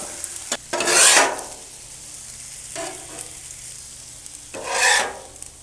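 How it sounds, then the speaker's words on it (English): Steak is worked and mixed with a spatula on a LoCo flat-top griddle for Philly cheesesteak, giving close, loud scraping and rasping strokes in two bursts over a steady sizzle, with no voices. "We're going to mix all that in, work in the steak."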